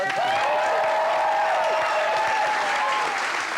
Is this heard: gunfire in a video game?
no